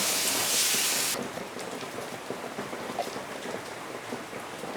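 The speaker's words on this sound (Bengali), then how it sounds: "মশলাটা দিয়ে আমি একটু কাঁচা গন্ধ যাওয়া অবধি একটু ভেজে নেব।" Spices sizzling in hot oil in a pan while frying off a paste of onion, garlic and chilli, a steady dense crackling hiss, louder for the first second and then settling into a continuous sputter.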